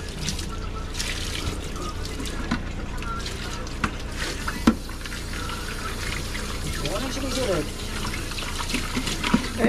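Water running from a tap, a continuous splashing trickle under loud nearby talking, with occasional clunks and background clatter.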